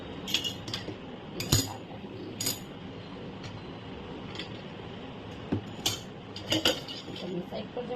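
A metal plate is pried out of a pressure cooker after steaming patudi (khandvi), with scattered clinks and scrapes of metal against metal over low kitchen background noise.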